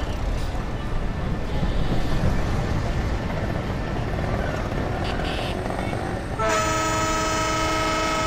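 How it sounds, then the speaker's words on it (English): A WDM3D diesel train in the Railworks 3 simulator rolls into a platform with a loud, continuous rumble and rattle, then a sustained horn blares over it near the end. "So right now our train is just arriving at platform number 1 at Trishur."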